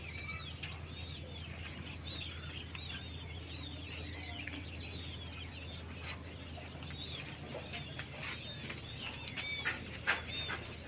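King quail at a quail farm in Bangladesh chirp and peep in a dense, continuous chorus, with bright overlapping calls over a steady low hum and a few louder cries near the end.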